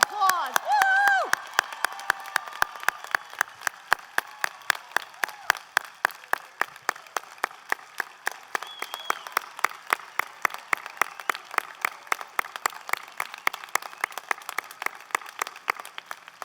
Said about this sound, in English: I think we need to give this class a huge round of applause